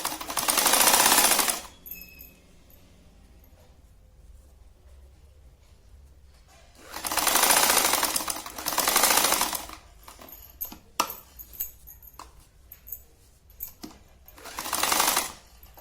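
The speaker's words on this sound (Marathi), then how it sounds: "हे बघा, ही खालची बाजू अशी शिवून घ्यायची." Sewing machine stitching along the bottom edge of a sari fabric, three loud close bursts of rapid whirring needle chatter lasting one to three seconds each, separated by quieter stretches with light handling clicks and no talking.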